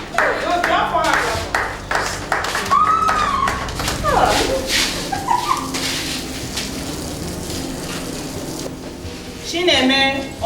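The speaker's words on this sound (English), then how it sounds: "Good, clap for her." Clapping for a named person at an announcement in a Nigerian film scene, irregular claps mixed with excited voices, chirpy whistles or cheers, and a brief louder burst near the end.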